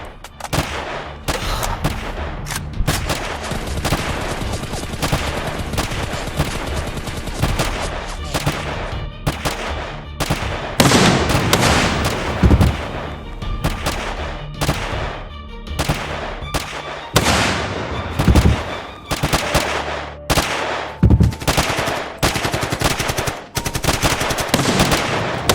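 Sustained machine-gun fire in a Chinese action movie battle scene, dense rapid bursts of shots continuing loudly throughout with heavy impacts and explosions layered in.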